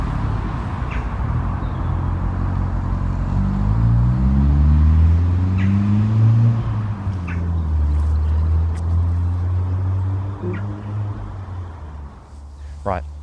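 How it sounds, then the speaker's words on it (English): A VW Golf Mk5 GTI pulls away, its engine note climbing through revs and then settling into a lower rumble as it fades into the distance. "I just gotta watch my car leave."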